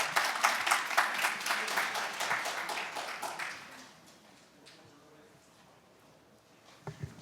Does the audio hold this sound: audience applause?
yes